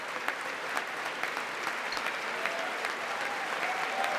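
Steady applause fills a chamber of Congress during a presidential address, a dense patter of many hands clapping at an even, moderate level throughout with no voices rising above it.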